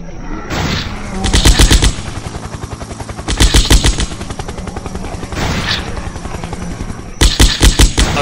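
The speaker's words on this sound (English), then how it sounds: "Chopper gun locked and loaded, providing cover fire." Helicopter-mounted machine gun laying down cover fire in the flash game Zombocalypse: loud, rapid bursts of gunfire in three or four clusters over a continuous rotor-like rumble, with no voices.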